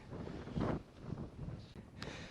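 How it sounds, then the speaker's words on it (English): Wind buffeting a microphone on a cold, exposed hilltop beside a stone cairn, a broad low rumble that swells in gusts, loudest near the middle, with no talk. "It is a bit nippy up here and windy."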